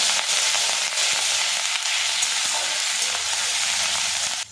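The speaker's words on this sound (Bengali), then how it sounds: "এবারে এখানে দিয়ে দেবো পেঁয়াজ বাটা" Onion paste with a bay leaf frying in hot oil gives off a loud, steady, close sizzle and crackle that holds unbroken from start to finish.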